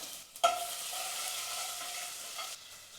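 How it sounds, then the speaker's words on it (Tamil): Crushed garlic cloves frying in oil with mustard seeds and cumin in a pan, a steady soft sizzle with a brief clink of stirring near the start, close and even throughout with no talking. "பூண்டு நல்லா வறுப்பட்டுடுச்சு"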